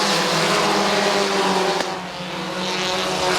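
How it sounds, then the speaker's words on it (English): A pack of race cars roars by at the Farmers Insurance 250, engines loud and continuous with a brief dip as the field passes, dense high-pitched motor whine throughout. "look at that gaggle of race cars behind him"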